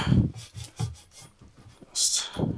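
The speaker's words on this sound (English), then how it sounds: "You can ream with a file or a reamer. I use a file because it's easier for me." A threaded pipe end is reamed by hand with a file, giving a series of short rasping strokes in an uneven rhythm, close and fairly loud, with one sharper scrape near the end.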